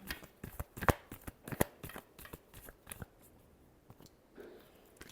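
Tarot cards are shuffled up close in quick, crisp riffles and flutters. The bursts are fairly quiet and come in an uneven rhythm, with no voice.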